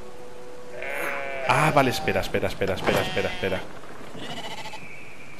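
In the video game Brothers: A Tale of Two Sons, a sheep gives a series of close bleats that ripple with a wavering, layered tone, under a voice as he speaks over the game.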